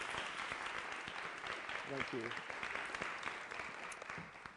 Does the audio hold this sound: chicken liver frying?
no